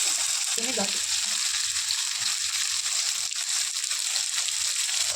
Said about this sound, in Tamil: கொஞ்சம் உப்பு சேர்த்து நல்லா வதக்கிடுவேன்.